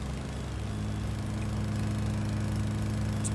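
A lawn mower drones steadily while mowing a graveyard in the video game Rising Star 2, a constant mid-volume engine hum with no pauses.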